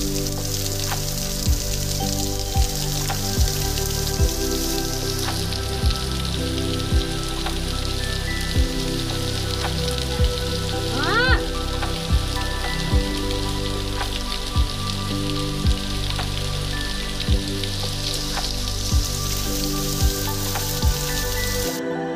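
Heavy thunderstorm rain falling on open village fields, a dense continuous hiss with an evenly rhythmic pattering layer running throughout, close and loud with no voices.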